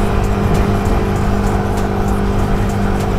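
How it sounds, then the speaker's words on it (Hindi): Motorbike engine running steadily during a morning ride, with a loud, continuous drone and road and wind noise throughout and no break in the sound. "बाइक को ड्राइव करते हुए मजे लेते हुए भाई साहब जा रहे हैं"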